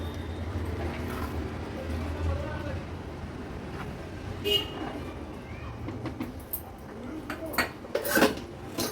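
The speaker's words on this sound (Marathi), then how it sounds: "मिक्स करून घेऊया व्यवस्थित" A metal spoon clanks and scrapes against a pot as ghee is mixed into prawn pulao rice, with a few sharper knocks near the middle and end over a steady low background hum.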